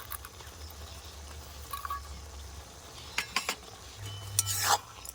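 Amla simmering with melted jaggery and raisins in a pan, a quiet cook with soft stirring and a few brief scrapes of a spoon against the pan over a low background hiss.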